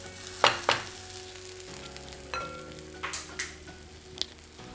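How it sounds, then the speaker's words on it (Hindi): Mashed boiled sweet potato paratha filling roasting in a pan, with a soft, quiet sizzle under a few sharp spoon scrapes and taps against the pan, some of them close together. "अब इन सभी चीज़ों को अच्छी तरह से हम भून लेंगे।"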